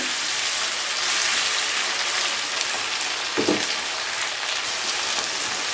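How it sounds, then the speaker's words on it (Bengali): Capsicum, tomato and paneer frying in a pan, a steady loud sizzle that runs through the whole stretch, with one brief soft knock partway through. "একটু সময় নিয়ে ঠিক এই পজিশনে ভেজে নিতে হবে"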